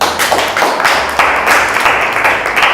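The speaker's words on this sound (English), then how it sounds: "let's clap for them" A small audience claps together at a presentation on child abuse, a loud, close patter of hand claps in uneven waves with brief dips, no speech over it.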